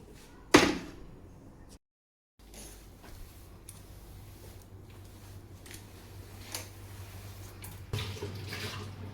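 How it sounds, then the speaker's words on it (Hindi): Tap water runs steadily into a kitchen sink while a woman washes dishes at home, a sharp clatter near the start, a brief gap, then a continuous near hiss of flowing water with small splashes. "ये लास्ट बार बर्तन धो रही हूँ"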